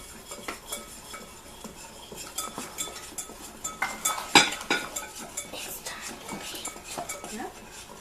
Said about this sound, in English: she's going to keep stirring